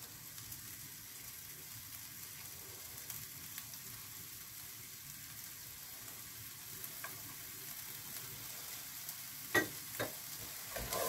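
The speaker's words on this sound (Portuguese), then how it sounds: "a frigideira já está quente. Vou pôr a cebola." Onion and garlic fry in a hot pan, giving a steady, moderately quiet sizzle with a few faint stirring clicks near the end.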